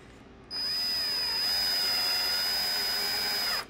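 A power drill drives screws into a wooden frame being built, its whine starting abruptly, holding a steady high pitch with a brief dip mid-run, then cutting off near the end; loud and close, with no talk.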